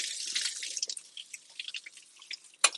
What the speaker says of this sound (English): Now I gotta rinse it.